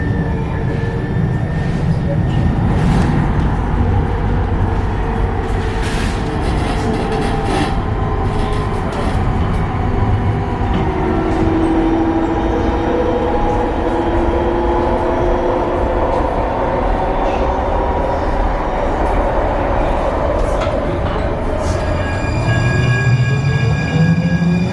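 A passenger train heading to Portland, Oregon, gives a constant loud rumble and rolling wheel noise from inside the car, with faint tonal squeals and a few clicks, and no talk.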